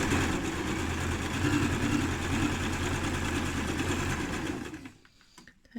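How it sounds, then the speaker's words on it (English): A sewing machine runs steadily while stitching a drawstring bag, a close mechanical whir with rapid needle rhythm that continues for several seconds and then stops, leaving near silence with a faint click at the end. "I'm just going to continue to stitch all the way along"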